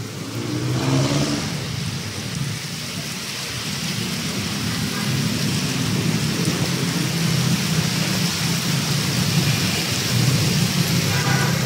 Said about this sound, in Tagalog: Grabing parang bagyo na dito.